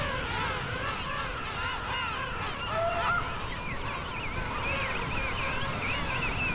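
King penguins calling across the colony at St Andrews Bay, South Georgia, a dense, continuous chorus of overlapping honking, trumpeting cries at steady loudness, many birds near and far, with no voices.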